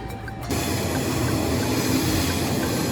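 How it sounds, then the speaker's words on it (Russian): A steady loud rumble of a train at a station in Brussels, Belgium, fills the air after a brief quieter start, a continuous mechanical drone with faint hum. "Вот так выглядит поезд в Брюсселе, в Бельгии"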